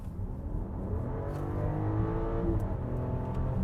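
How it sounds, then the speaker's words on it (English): 2024 BMW X5 with the B58 turbocharged inline-six accelerating hard at full throttle, a steady, rising engine drone heard from inside the cabin with no talk. "Floor it."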